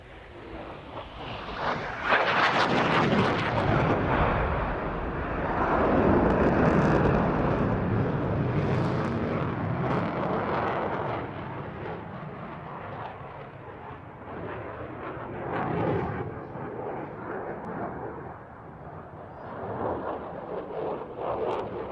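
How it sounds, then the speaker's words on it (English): An RAF Typhoon jet roars past in a flying display at an airshow, a broad loud rush that swells, peaks and slowly fades into a distant rumble. "welcome Flight Lieutenant Noel Rees and the 2014 RAF Typhoon display"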